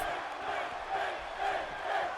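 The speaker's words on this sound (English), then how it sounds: "Crowd trying to bring Finn up to his feet here, trying to will him on in this one" A wrestling-arena crowd cheers in the WWE 2K18 video game, a faint, continuous wash of voices that swells and dips gently throughout.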